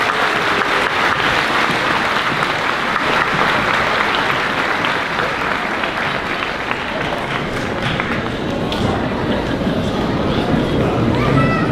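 Loud, thick applause from an audience at a 5th grade moving-up ceremony at an elementary school, unbroken clapping that fills the whole stretch.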